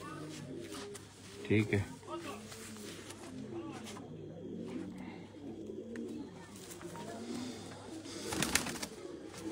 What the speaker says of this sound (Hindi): ये देखो आ रहे हैं पट्टी के घर का कबूतर है